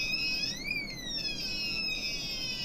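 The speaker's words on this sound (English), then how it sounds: "Here's alarm song." An electronic alarm tone from a hobby soldering kit sweeps upward in pitch, then falls slowly in a long glide and repeats. The piercing, steady electronic whine sounds alone at moderate level.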